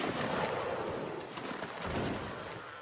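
Massed musket fire from line infantry in a Napoleonic Wars line battle game, a dense, continuous crackle of shots ringing out at a distance, with no voices.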